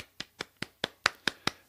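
Seven sharp hand claps land at an even, deliberate pace, close and distinct with short decays and no talking, a small stand-in for applause for podcast supporters.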